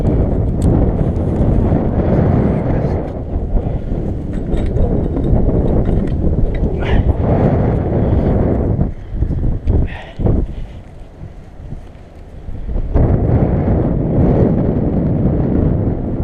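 Strong wind roars and buffets the microphone in loud, continuous low rumbling gusts, easing briefly partway through before building back up, with no talking.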